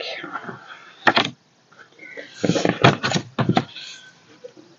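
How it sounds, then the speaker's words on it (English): A cat meows and yowls in a few loud, drawn-out bursts, with quieter rustling and murmuring between them. "hear that cat moaning"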